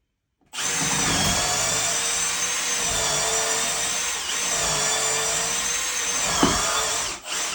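A power drill pre-drills wood for a picnic table, a steady loud whine starting abruptly and running for several seconds with slight dips in pitch, then stopping near the end.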